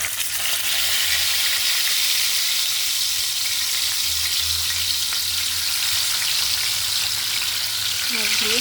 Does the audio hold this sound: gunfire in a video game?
no